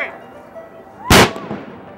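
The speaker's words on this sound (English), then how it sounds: "Three cannon shots." A single loud, sharp cannon blast booms at a Columbus Day celebration, a sudden broadband burst with a short rumbling tail, heard after and over people talking.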